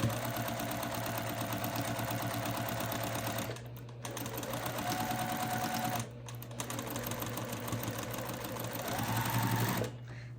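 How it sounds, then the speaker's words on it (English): Sewing machine stitching fabric for a quilting project, a loud close steady motor whirr with rapid needle clatter running in three long bursts separated by brief pauses. "Sew a few stitches."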